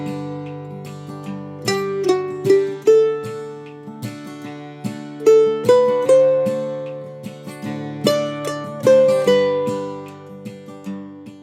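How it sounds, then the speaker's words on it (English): A mandolin plays the simple melody of the folk song Banks of the Ohio, clear plucked notes in a steady, unhurried rhythm with ringing chords underneath, close and alone without any talking. "We're going to start with our basic melody, which sounds a bit like this."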